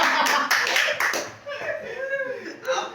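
Hands clap in a quick burst of sharp slaps through the first second at a bachelor party eating show, then voices take over and talk carries on without further clapping.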